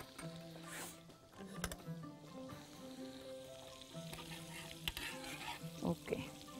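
Garlic frying in butter in a pan for a red cabbage and corn dish, a steady soft sizzle with occasional stirring scrapes, close by and with no talk over it.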